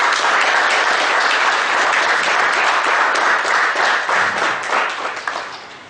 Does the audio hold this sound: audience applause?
yes